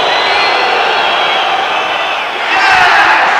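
Basketball arena crowd at a 1991 Kingston versus Maccabi game reacts to a free throw with a loud, sustained roar. It dips briefly, then swells again into louder shouting and whooping.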